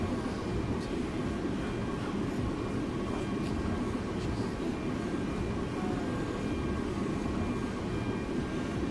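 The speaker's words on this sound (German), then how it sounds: "Jetzt fährt es sich ernsthaft im Güterzug." Steady, loud rumble of a freight train running on the line in the railway simulator Simrail, continuous rolling noise with faint wheel clatter throughout and no voices.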